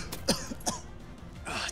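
Two sharp coughs, close and distinct, with a brief throaty rasp between them and no speech.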